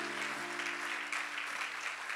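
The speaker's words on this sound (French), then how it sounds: "Acclame pour le Seigneur, bien-aimé." A church congregation applauds for the Lord, a short burst of clapping from many people that carries on under a sustained tone.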